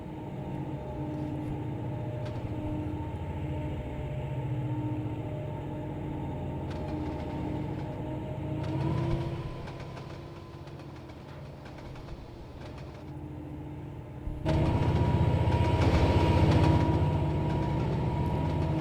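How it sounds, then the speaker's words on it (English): A train running on the Oregon Short Line between Glenns Ferry and Bliss in the simulator game Trainz 12, with a steady engine drone and rolling rumble that swells louder near the end. "Actually, I'm just gonna stop the train here."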